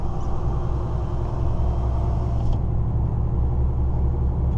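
Truck engine running while driving on a winter trip, a steady low rumble that holds constant with no talking.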